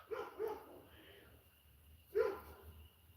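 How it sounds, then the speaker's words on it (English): A shepherd dog barks a few times in the distance, two quick barks then a third after a pause, muffled and moderately loud. "That's got to be a shepherd barking."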